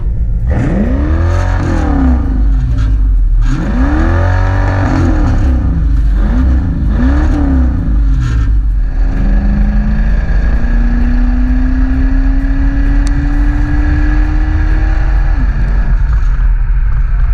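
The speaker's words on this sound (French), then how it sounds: "Surtout avec le bon son du V8 derrière" A loud V8 engine in a 1984 Chevrolet Corvette C4 revs hard through several rising gear pulls, then holds a long climbing roar as the car accelerates, close and powerful.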